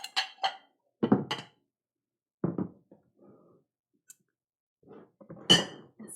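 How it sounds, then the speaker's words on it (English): Serving bowls are taken out of a kitchen cupboard for falafel bowls, giving a series of sharp knocks and clunks of ceramic set down one after another, separated by brief pauses. "Let's get some bowls out."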